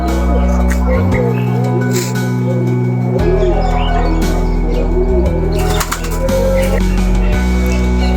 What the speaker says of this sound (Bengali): এগুলো বিদেশি প্রজাতির কবুতর